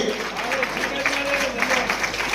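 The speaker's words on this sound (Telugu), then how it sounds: "ఒకసారి లేచి నిలబడి చప్పట్లు కొట్టి అభినందనలు తెలియజేద్దాం" A crowd at a Christmas celebration in Nizamabad rises to its feet and claps steadily, a dense continuous patter of applause filling the hall for the whole stretch with a faint voice underneath.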